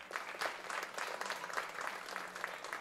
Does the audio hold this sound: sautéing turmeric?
no